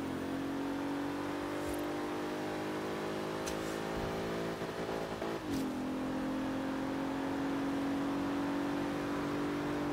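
Bentley Continental GT in Forza Horizon 3 held at a steady high engine drone through a drift, with the pitch dipping briefly partway through and then resuming, with faint clicks on top.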